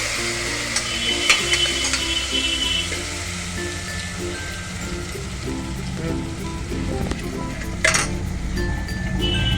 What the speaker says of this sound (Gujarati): તો આપણે એને વઘારી નાખશું